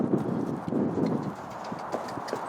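A horse trots away and back over deep sand on its working surface, its hooves sounding a steady, muffled clip-clop rhythm at moderate distance, with no voices over the footfalls.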